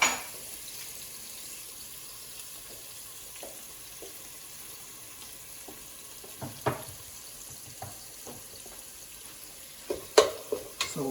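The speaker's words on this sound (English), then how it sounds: "saute the onion." Onion sautés quietly in a pan for a long stretch with a soft, steady sizzle. Scattered clicks and scrapes of stirring grow more frequent toward the end. No voices.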